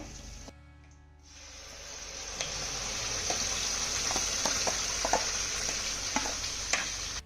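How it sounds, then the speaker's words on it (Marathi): Spiced yogurt hits hot ghee tempered with cumin seeds and curry leaves. After a brief lull, a loud, close sizzle bursts up and keeps crackling and popping unevenly as it is stirred, with no talking. "आता या फोडणीमध्ये ना मसाल्याचं दही घालूया."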